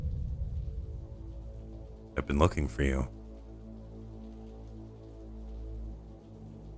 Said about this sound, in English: Rain's not stopping, huh?